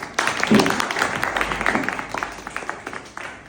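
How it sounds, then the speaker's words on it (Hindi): Classroom applause for a student, a burst of clapping that starts loud and thins out over a few seconds, with scattered voices. "तालियां बजाओ"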